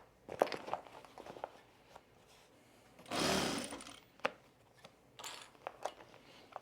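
A sewing machine stitches through several bag layers including vinyl in one short, steady whirring burst, framed by quiet clicks and handling noises as the fabric is readjusted, with no talking.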